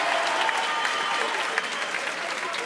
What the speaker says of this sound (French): applaudissez très très fort pour lui s'il vous plaît